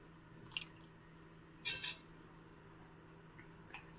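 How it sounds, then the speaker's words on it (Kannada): Two cups of curd spooned onto washed thick flattened rice (avalakki) in a bowl: a few brief, soft wet plops and clinks against a quiet background. "ಈಗ ಇದಕ್ಕೆ ಎರಡು ಕಪ್ಪಾಗುವಷ್ಟು ಮೊಸರನ್ನು ಹಾಕ್ತಿದ್ದೀನಿ"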